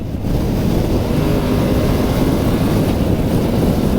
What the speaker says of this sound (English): There's the quick shift, guys.